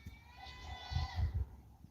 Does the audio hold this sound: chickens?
no